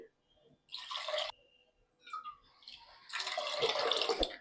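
Water poured from a bowl into a pressure cooker holding a seven-grain khichdo mix with salt, arriving in two broad splashing bursts, the second longer and fuller, close by with no talk.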